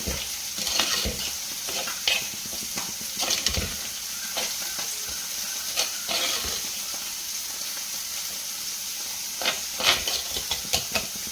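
Sardine curry with ground coconut being stirred in a hot pan, giving a steady close sizzle broken by irregular scraping and clinking strokes of the spoon, with no voices.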